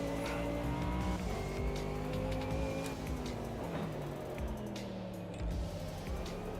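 Tyres squeal and skid under a racing car's engine in the AMS2 sim racing game, a busy, steady mix of engine note and screeching rubber with shifting pitch throughout, no voices.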